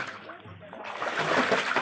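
Well water splashes as someone bathes outdoors at a well in Balaghat district, Madhya Pradesh, a brief close burst of splashing and sloshing.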